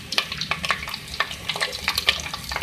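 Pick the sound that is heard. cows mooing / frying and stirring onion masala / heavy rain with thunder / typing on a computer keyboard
frying and stirring onion masala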